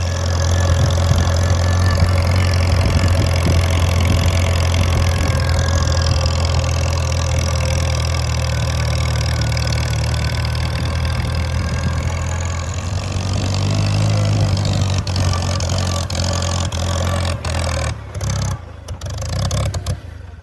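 A Farmall Cub tractor engine runs continuously while the tractor is driven in third gear, a loud, steady low drone that shifts slightly midway, with scattered clunks and rattles near the end.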